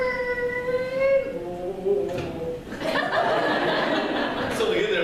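A voice imitates a squeaky refrigerator door with a long, wavering, rising creak, followed by a breathy, noisy rush of sound.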